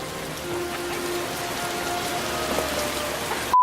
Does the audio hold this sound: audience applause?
no